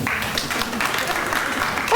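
Graduates at a luncheon applaud themselves in a steady, fairly loud wash of clapping. The applause holds evenly for the whole span.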